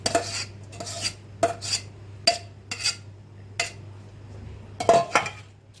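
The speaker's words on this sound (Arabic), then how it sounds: "ونيجي في الطاجن بتاعنا نفضي الكميه كلها" A pasta, béchamel and meat mixture is emptied into a baking dish. A spoon scrapes and knocks against the dish in a few close, irregular clinks and thuds with quiet gaps between them.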